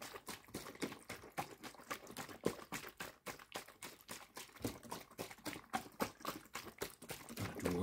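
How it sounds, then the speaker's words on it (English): ASMR water sounds made close to the microphone as a steady run of soft, rhythmic splashing and dripping, quiet and intimate, with no voice. "Thought I'd do water sounds today."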